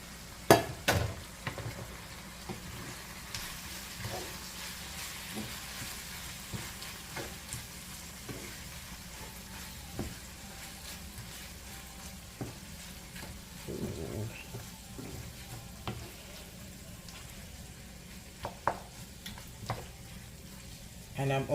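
Broccoli dropped into curry chicken frying in a pan, giving a steady low sizzle with occasional clinks and stirring scrapes, close by throughout.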